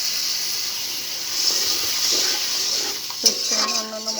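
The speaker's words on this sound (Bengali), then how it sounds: "এখন দিয়ে দেবো মশলা কষানোর জন্য একটুখানি পানি।" Water splashes into a pan of frying spices while cooking duck curry, giving a steady broad hiss of sizzling with a sharper burst of splashing and clatter near the end.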